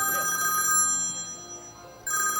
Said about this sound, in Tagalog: Nag-ring. Telepono.